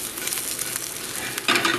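A sausage omelet with cheese sizzles in a frying pan, a steady close crackle that swells louder near the end.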